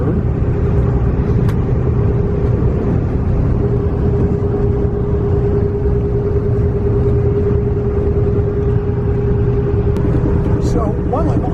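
Steady low engine drone and road rumble inside a Denver RTD bus running between Boulder and Denver International Airport, with a constant tonal whine throughout and a voice speaking over the din.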